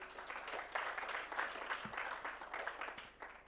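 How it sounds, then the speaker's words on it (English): An audience at a summit applauds a panel, a short, fairly faint burst of clapping from a modest crowd that tapers off toward the end. "can we first give these guys a round of applause?"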